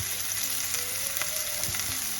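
Pork and chia seed dumplings pan-frying in a little oil, a steady, loud, close sizzle with light crackles as all sides cook, without any talk.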